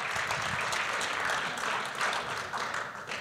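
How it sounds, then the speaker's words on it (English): A ceremony crowd honouring a 400 m hurdles world champion applauds steadily, a loud, continuous wash of many hands clapping throughout, close and sustained. "Give him a round of applause."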